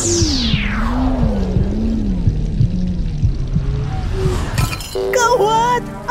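A ceramic mug cracks and shatters while being washed, a clattering break of ceramic near the end, heard over a steady wash of running water and a descending whistling tone.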